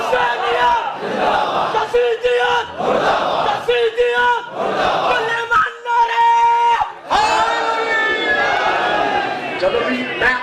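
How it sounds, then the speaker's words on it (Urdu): A large crowd at an Eid Milad un Nabi religious gathering chants slogans in loud, rhythmic bursts, swelling and dropping several times before a final sustained roar. "لوگ نعرے لگا رہے ہیں"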